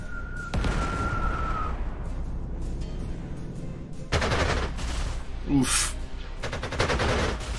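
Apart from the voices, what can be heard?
units firing in video game Panzer Corps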